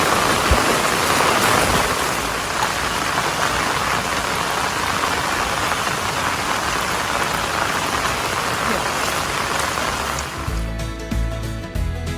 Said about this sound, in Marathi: आता पाणी इथे खाली उतरलं आहे